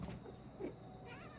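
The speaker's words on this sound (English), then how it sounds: "My cat Yoda wants to say hello." A pet cat named Yoda gives a soft, faint meow indoors, short and quiet against low room noise.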